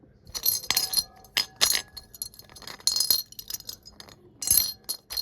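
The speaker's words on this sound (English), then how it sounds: "we got our bounced audio from our first sample, which is the glass bowl" A glass bowl struck again and again, giving bright ringing clinks in an uneven rhythm, loud and close, each strike followed by a short shimmering decay, with no voices.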